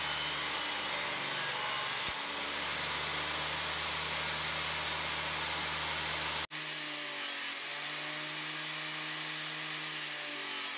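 A saw set against a fence cuts wood into 1.5 inch pieces, a loud, steady whine with a sharp break partway through and a lower, smoother running tone after it.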